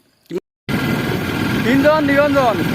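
Motorcycle riding through jungle near Khowang, with a steady engine and wind roar that starts abruptly after a brief silence and runs continuously, while a voice speaks over it.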